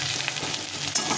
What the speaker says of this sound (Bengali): দেখো পেঁয়াজটা সুন্দরভাবে লাল লাল করে ভাজা হয়ে গেছে।